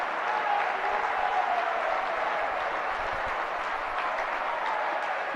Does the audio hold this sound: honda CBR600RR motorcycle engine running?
no